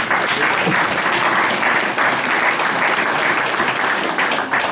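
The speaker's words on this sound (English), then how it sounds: "give yourselves a big round of applause" Loud, close applause from an audience at a tourism talk in Mayo, many hands clapping steadily with a brief dip partway before continuing.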